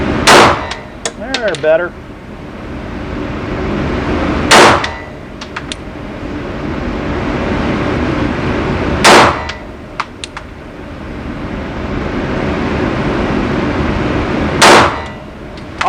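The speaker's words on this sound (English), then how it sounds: "All right, there's 5 shots with the Glock." Glock pistol shots ring off a steel target at a shooting range, four loud, widely spaced bangs about every five seconds, with a voice speaking briefly between them.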